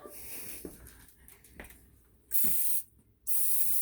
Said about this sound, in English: You just spray it like this.